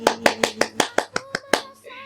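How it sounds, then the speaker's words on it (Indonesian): Children's hands clap in a quick, steady run of about nine claps, close and crisp, ending in a brief tonal voice-like sound. "tepuk tangan dong untuk Kati Jolly"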